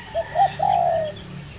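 Spotted doves in a breeding cage give three soft cooing calls, the last one drawn out, close by against a quiet background.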